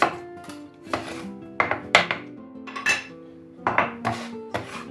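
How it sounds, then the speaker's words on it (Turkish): A knife finely chops an onion rapidly on a cutting board, sharp close knocks in uneven bursts, with faint clinks between strokes. "Bunu böyle fare dişi doğrayacağız"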